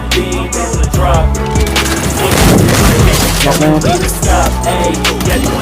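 Loud, rapid bursts of gunfire and booming grenade explosions in the video game Free Fire crowd together, with excited voices talking over the chaos.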